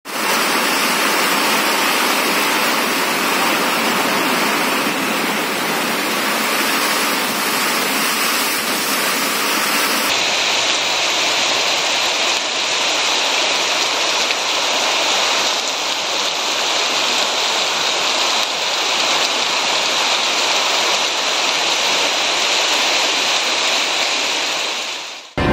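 Rain falls in the Sirsi and Siddapur area of Uttara Kannada district, a loud, constant hiss that runs unbroken throughout with no voices.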